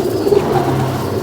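Ferozpuri pigeons coo nearby, a short, soft, throaty burbling call over a faint background hum.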